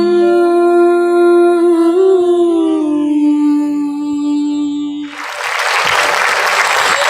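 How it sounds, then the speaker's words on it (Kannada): An audience at a live music entertainment show by a Udupi music club bursts into loud, dense clapping that follows a long held musical tone and continues strongly to the end. "ಬರ್ಲಿ ಜೋರಾದ ಚಪ್ಪಾಳೆ"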